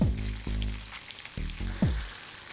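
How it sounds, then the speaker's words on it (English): Crab frying in a pan with tomato ketchup and chili sauce being stirred, a close sizzle and crackle under repeated low scraping strokes of the spoon, with no talk. "Then what we've got to do is just keep stirring."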